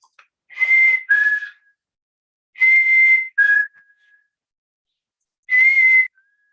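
A person whistles a black-capped chickadee's song, imitating the bird: three clear, separated two-note phrases, each a held higher tone dropping to a lower one, with pauses between and no talking.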